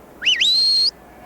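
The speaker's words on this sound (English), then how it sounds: "The shepherds command the dogs with words or by whistling." A single sharp shepherd's whistle commanding a herding dog to run, rising quickly with a short wavering flourish then holding a high steady note before cutting off.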